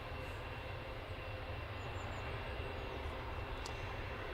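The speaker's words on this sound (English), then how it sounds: "Just behind us, a Ryanair arriving from Cork, a 737 MAX 8-200." A Ryanair Boeing 737 MAX 8-200 arriving at Manchester Airport gives off a continuous low jet rumble, moderately loud and steady throughout, with no speech.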